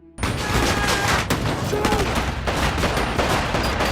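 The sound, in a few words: gunfire in a film firefight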